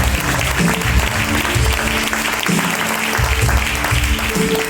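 A church congregation claps together during an anniversary service, loud rhythmic clapping mixed with low musical or voiced tones that pulse in repeated bursts across the whole stretch.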